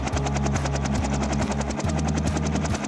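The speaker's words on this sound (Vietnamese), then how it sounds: "Này là máy bay trực thăng." A cartoon helicopter in a children's animated adventure, its rotor thumping in a fast, steady chop over a constant engine whine, loud and close and heard alone.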